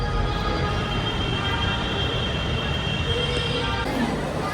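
Inside a large, busy interchange station in India, a steady rumble of rail traffic and crowd noise fills the space, loud and continuous with no clear breaks.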